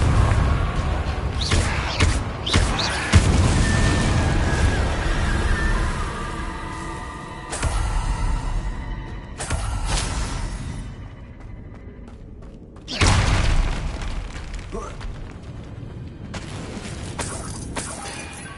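Confringo blasting spells go off in Hogwarts Legacy, several loud booming impacts with shattering and crashing debris, each followed by a ringing tail, spaced a few seconds apart amid game ambience.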